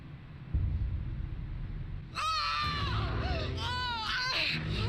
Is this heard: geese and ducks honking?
no